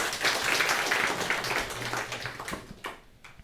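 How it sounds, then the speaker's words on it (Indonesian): An audience at a talk about corn farming and livestock breaks into dense clapping that thins out and fades over a few seconds. "Tepuk tangan Bapak Ibu"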